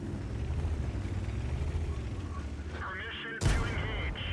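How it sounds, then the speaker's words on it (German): Tank combat in the video game World of Tanks, a rumbling engine bed under a voice, then one loud, sharp cannon shot near the end, with more rumble after. "Und jetzt kann er hinten schön drauf schießen."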